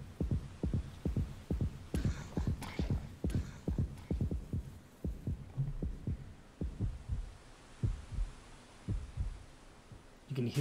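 Heartbeat from the horror game Yomawari: Night Alone, a steady run of deep, thumping pulses that gradually slow and soften over the stretch, with brief higher rustles early on.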